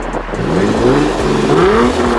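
A Lexus IS250 fitted with a Vibrant resonator revs close by, its exhaust note rising and falling in a loud, throaty sweep with a steady rumble underneath and no talking.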